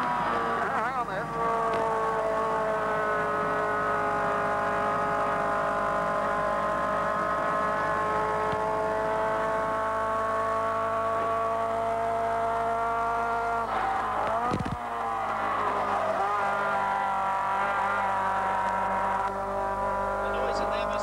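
Race car with a straight-through exhaust at Bathurst in 1980, its engine howling loud and sustained from inside the car with shifting pitch through gear changes, with a voice over it.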